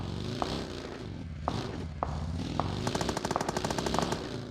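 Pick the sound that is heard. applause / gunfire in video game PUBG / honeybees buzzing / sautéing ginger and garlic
gunfire in video game PUBG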